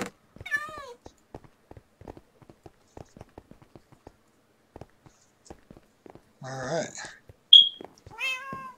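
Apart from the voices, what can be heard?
cat meowing in Minecraft video game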